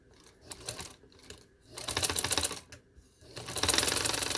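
A sewing machine stitches piping strip in short, rapid bursts with brief quiet pauses between runs, a close, busy mechanical clatter.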